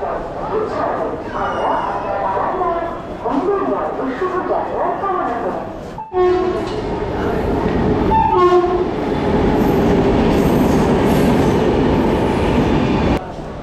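Mithila Express 13021 pulling into platform 2 at Bardhaman station in the evening, a steady loud rumble of railcars building after a brief horn, with platform crowd chatter and voices heard early on.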